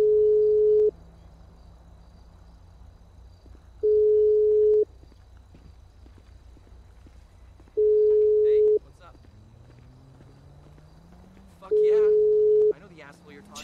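A phone call ringback tone in a GTA V roleplay, four evenly spaced long steady beeps with pauses between them, with faint voices talking in the gaps.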